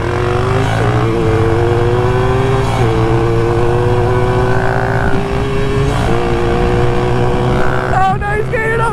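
Several engines roar together in a roll race, their pitch climbing steadily through repeated upshifts as the vehicles accelerate hard, loud and close, with a brief dip and rev at the end.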